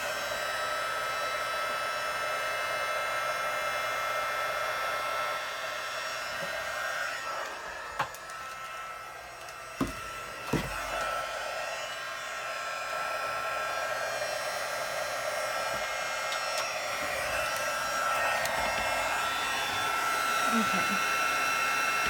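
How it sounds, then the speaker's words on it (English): A heat gun used for embossing a card blows with a steady, loud rushing whir that runs the whole time, with a few faint knocks and clicks over it. "Okay, so I have my heat gun here. I'm going to just turn it on for a little second"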